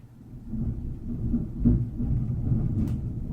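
Low thunder rumbles in the distance ahead of rain, a rolling swell that builds and holds with a brief stronger surge, deep and muffled.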